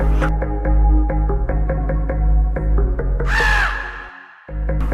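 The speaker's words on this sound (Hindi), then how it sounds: "कौवा कांय कांय कर रहा था।" A cartoon crow caws over loud rhythmic background music in a children's animated story, with a sharp swooping cry near the end before the music briefly cuts out.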